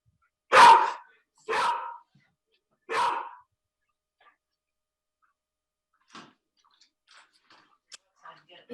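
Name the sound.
dog barking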